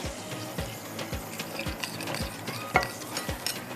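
Salt being mixed into a dish in a pan, a steady series of scraping, clinking stirs with regular soft knocks roughly every half second, close and fairly quiet, no voices.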